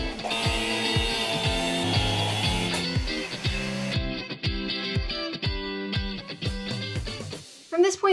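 Ratchet wrench working on stuck bolts on a Corvair, rapid repeated clicking ratchet strokes in quick bursts, loud and close, with a muffled voice in the background.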